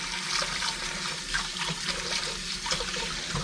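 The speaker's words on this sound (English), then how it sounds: "I'm going to wash these chopsticks so that I can use them again" Chopsticks rinsed under a running kitchen tap while cooking chicken soboro donburi, a steady close hiss of flowing water with small splashes throughout and no talking.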